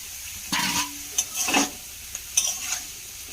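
Banana stem with small shrimp being stirred in a pan, several distinct scraping strokes of a spoon over a soft sizzle, close and fairly loud.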